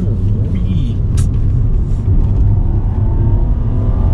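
A Nissan Kicks electric car with a range-extending generator accelerates out of a corner on a test circuit, a loud steady whir and rumble of motor and tyres right at the car, with someone talking over it.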